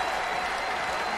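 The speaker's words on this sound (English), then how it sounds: "Bowing, taking the applause from the crowd." A stadium crowd at the World Athletics Championships in Budapest applauds a hammer throw medallist, steady, dense clapping and crowd noise filling a large open arena without a break.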